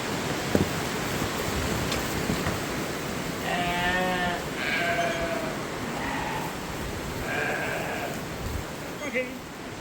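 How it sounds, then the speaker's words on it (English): Sheep bleat several times, with calls clustering in the middle of the clip, over steady rain noise on a farm in warm, rainy weather. "Fair weather sheep. There's a few out there still, but they should stay out."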